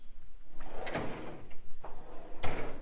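A metal drawer on a Honda mechanic's tool box slides open with scraping, rattling movement and a couple of sharper clunks, close up in a workshop.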